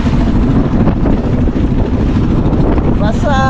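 Big sea waves and strong wind battering a small boat out at sea, a loud continuous roar of wind buffeting and water rushing throughout, with a brief voice near the end.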